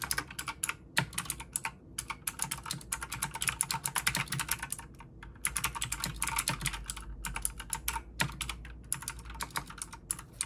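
Close, rapid typing on a Cooler Master CK351 keyboard, a water- and dust-resistant model, with dense clattering keystroke bursts broken by a few brief pauses and no talking.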